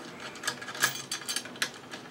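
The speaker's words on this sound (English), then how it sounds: "This is an Allen wrench, so we'll put that in there." An Allen wrench turning a long bolt coated with thread-locking compound, giving a short run of soft, close metallic clicks and scrapes at an uneven pace.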